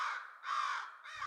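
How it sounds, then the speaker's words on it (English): Crows mobbing a great horned owl, giving three harsh, rasping caws in quick succession, close and loud with no other sound around them. "It is very common for these owls to be mobbed by crows, ravens, songbirds, and even raptors who call loud and incessantly"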